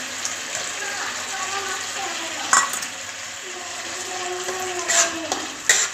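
Spice paste and chopped tomato fry in oil for a Bengali tel koi fish curry, giving a steady close sizzle with brief clatters of stirring and scraping, while a voice talks faintly in the background.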